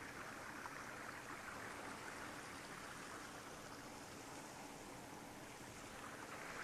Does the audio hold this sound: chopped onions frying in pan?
no